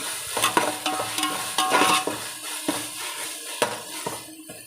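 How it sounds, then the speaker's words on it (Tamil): Ginger garlic paste sautés in oil in a pan for biryani, a continuous sizzle broken by repeated clinks and scrapes of a spoon stirring against the metal, close and fairly loud. "நல்லா எண்ணெய் நல்லா வெளியே வர்ற வரைக்கும் நல்லா வதக்கணும்."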